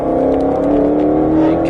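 A 2021 Ford Mustang GT500 accelerates hard on the Folembray race circuit, its engine holding a loud, steady roar heard from close range.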